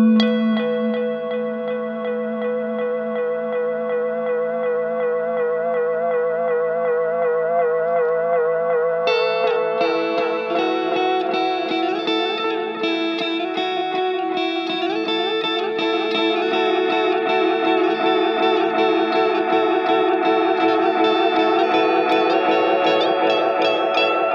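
An electric guitar rings through a Boss RE-202 tape echo set to its warp effect, held chords smeared by wavering, pitch-bending repeats. The sound grows thicker and brighter partway through and plays alone for about twenty-four seconds.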